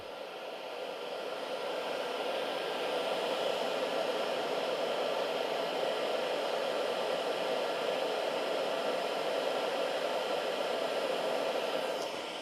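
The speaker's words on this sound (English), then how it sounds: "I chose the blower because I think it's one of the heaviest current draw devices that I have" A cordless blower on a CEENR clone Dewalt-style battery runs at slower speed, a steady broadband whoosh that ramps up over the first seconds and holds constant, close and fairly loud.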